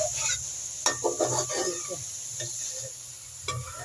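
Okra curry (bhindi salan) stirred and mixed in a pan, with soft scraping and clinking strokes in uneven bursts over a steady low sizzle, close and fairly quiet.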